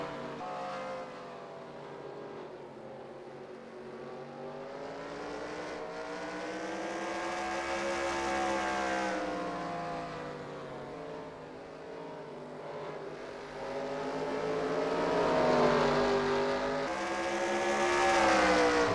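Late model stock cars race at Myrtle Beach in the NASCAR Racing 2003 simulation, their engines droning loudly and rising and falling in pitch through the turns and down the straightaway, with no talking.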